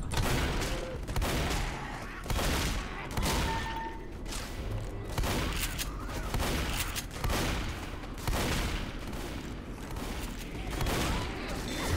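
Sustained shotgun fire from a squad in the Left 4 Dead No Mercy Reversed campaign, loud, dense blasts overlapping continuously across the whole stretch with booming low thuds, no pause between volleys.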